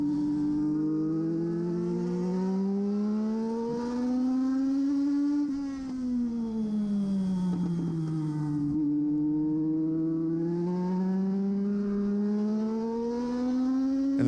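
INEX Legend cars race at the start of a race, engines howling at high revs in a loud, continuous drone whose pitch rises and falls as they accelerate and shift, with no talk.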